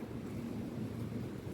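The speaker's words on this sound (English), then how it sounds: "It's getting colder and colder out. The wind is blowing" Strong outdoor wind in cold weather gusts steadily into the microphone as a low, constant rumble, with no voices.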